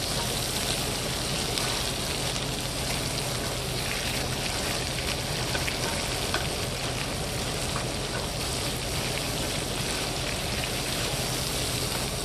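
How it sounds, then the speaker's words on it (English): Steak and eggs with a chunk of butter are stirred together in a cast-iron breakfast skillet, giving a loud, constant sizzling hiss with no break in its texture and no voices. "Chunk of butter. Go ahead and mix all that up."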